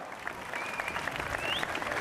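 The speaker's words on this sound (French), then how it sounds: "on pourrait réapplaudir, applaudir encore une fois en tout cas" Crowd applauding at a giant omelette festival in Malmedy, a dense outdoor patter of clapping with a faint whistle rising over it, continuing steadily.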